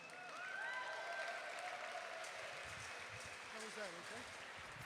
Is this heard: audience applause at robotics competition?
yes